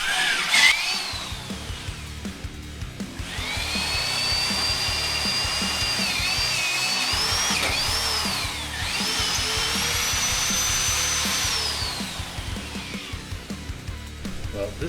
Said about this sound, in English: So Matt's doing the drill.